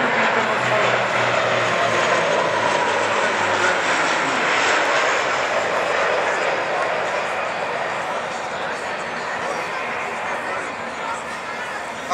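A Bulgarian Air Force C-27J Spartan military transport aircraft flies close overhead at an air show, a loud, steady roar of propeller engines that lingers, a continuous droning rumble that slowly eases.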